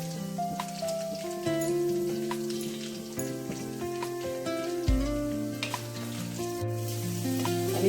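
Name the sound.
garlic, green chilies and curry leaves frying in oil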